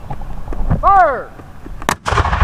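A cannon fires at a Civil War reenactment, one sharp, loud blast standing out near the end, after a rumbling stretch with a whistling, rising-and-falling tone and faint voices in the background.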